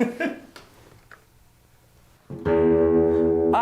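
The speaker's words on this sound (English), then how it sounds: "So that's just the ring mod sound right there" Quiet scattered noises give way to a sustained, loud electric guitar tone through a ring modulator pedal, metallic and clangorous, holding steady for over a second.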